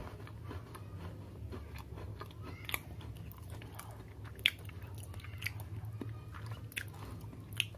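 Strawberry cream Oreo cookie being bitten and chewed, a steady series of close, soft crunching bites and chews over low background hum, with no talking.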